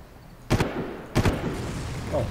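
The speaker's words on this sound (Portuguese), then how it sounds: "era só um tiro" Two sharp gunshots from a Far Cry video game ring out about half a second apart, close and punchy, with someone talking faintly in the background.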